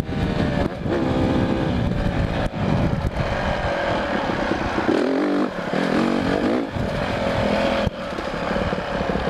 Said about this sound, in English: It's louder than most street bikes actually, these race model dirt bikes.